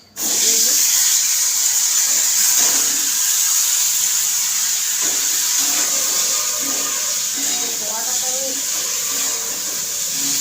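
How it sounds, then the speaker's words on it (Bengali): Cooking in a small kadai gives a steady hissing, spattering sizzle up close, with faint household noises and brief voices in the background. "ছোটো কড়াটাতেই আমি রান্না করতে আরম্ভ করে দিলাম"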